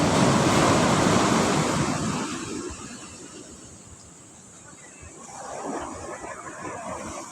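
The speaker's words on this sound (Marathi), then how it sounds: "समुद्राच्या लाटा पुढे येऊन सूर्याला खाली जाण्यासाठी जागा तयार करतायत मागे." Sea waves rolling onto the shore at Sagareshwar Beach in Vengurla, Konkan: a loud surging wash that recedes into quieter hiss, then a second wave builds, with wind buffeting the microphone and no talking.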